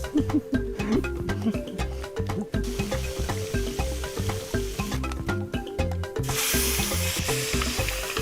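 Loud, continuous sizzling and crackling of fish frying in a hot pan, with irregular spattering pops throughout.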